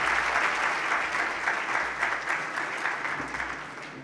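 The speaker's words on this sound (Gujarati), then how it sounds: "જોરદાર તાળીથી વધાવ્યા" An audience claps to welcome a guest at a talk program, a dense, steady burst of applause that fades slightly toward the end.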